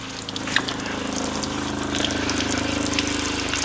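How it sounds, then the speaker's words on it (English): An RV water pump in a Winnebago View pushes pink antifreeze through a hot water faucet during winterizing, giving a steady mechanical hum with gushing, spattering liquid that runs continuously and grows slightly louder toward the end. "We're going to turn the water pump on here."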